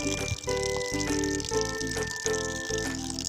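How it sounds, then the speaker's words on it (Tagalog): Water poured onto commercial animal feed so it swells, heard as a continuous close gushing pour with rattling, bubbling texture. "lagyan natin ito ng tubig"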